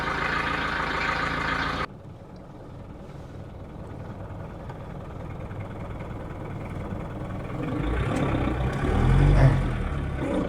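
1970s diesel car engine idling with a steady low rumble, close and fairly loud, its tone shifting and rising slightly toward the end as the idle is raised.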